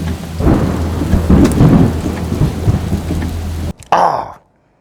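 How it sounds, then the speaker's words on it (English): Heavy rain pours steadily while thunder rumbles deeply underneath. The sound cuts off briefly, returns as a short roaring burst, then falls silent. "It started raining"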